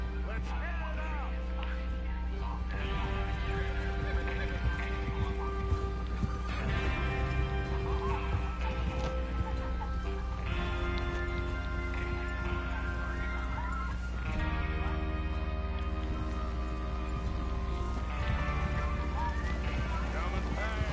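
Horses clip-clop across the ground in Red Dead Redemption 2, hooves steady under a constant bed of game music and ambience, with a neigh now and then and characters talking over the riding.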